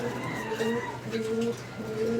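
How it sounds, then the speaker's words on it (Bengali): A female fancy pigeon coos nearby in a few repeated soft, throaty phrases, with faint background noise between the calls. "মাদি ডাকটা দেখা দিই আবার"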